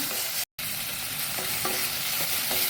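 Cauliflower with leafy greens fries in a pan for a low-oil gobi fry, a continuous close sizzle broken by occasional stirring scrapes, with a brief dropout near the start.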